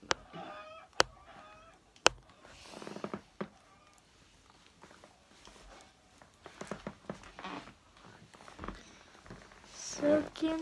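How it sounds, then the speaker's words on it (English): Chickens being struck in a video game, with repeated squawks and clucks broken by sharp hit sounds, close and fairly loud over busy game noise. "We're beating chicken to death."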